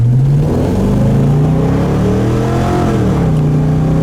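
A 1972 Chevelle RestoMod pulls hard under acceleration, its loud, close engine note climbing steadily in pitch, then dropping as it shifts gears near the end before building again, with continuous road and wind roar underneath.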